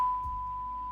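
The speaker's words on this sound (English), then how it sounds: "there was that beep sound effect that was added in" A steady, pure electronic beep tone added as an editing sound effect holds at an even, moderate level for the full second with nothing else over it.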